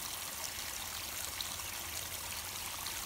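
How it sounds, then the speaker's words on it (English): A small creek flows under a stone bridge along the Appalachian Trail. The water makes a steady, soft rushing and trickling that continues with no voices. "Oh, a nice little creek on the way up."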